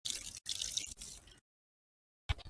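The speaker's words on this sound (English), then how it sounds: "I can actually take water, take my watering can," Water from a watering can pours onto a plant in two short splashing bursts, then stops, followed by a brief soft splash after a pause. The sound is close and fairly quiet.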